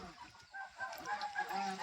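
Chinese Raja ducklings give faint, brief calls at close range, a short burst of small overlapping cheeps and honks.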